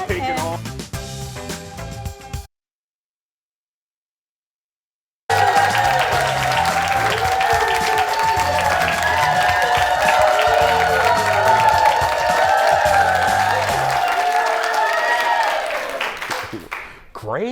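Studio audience applauding and cheering for a long stretch, steady loud clapping with whoops layered on top, fading out at the end; a brief burst of other sound and a gap of silence come first.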